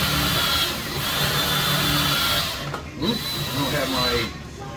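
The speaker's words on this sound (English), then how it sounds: "We're probably drilling right through that screw on the back." A drill bit driven through a screw on the back of a stern cab lock, a loud, sustained whine with grinding and snagging texture and a brief pause near the middle.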